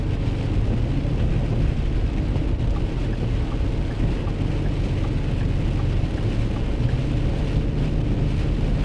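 Heavy rain drumming on a vehicle driving through a storm with hail, a loud, dense, unbroken roar that stays even from start to finish with no voices.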